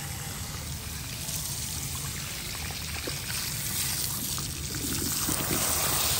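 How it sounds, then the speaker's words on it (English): Running water rinses shampoo out of hair in a salon-style wash, a steady close pouring and trickling stream with soft splashing that continues throughout. "Place your hand this way, and then rinse the hair."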